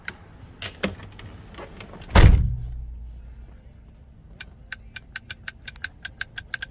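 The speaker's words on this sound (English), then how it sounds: "as soon as I close the door" A Ford Mustang door swings shut with one heavy, close thump after a few light clicks, followed by a faint fading rumble and then a run of regular quiet ticking clicks.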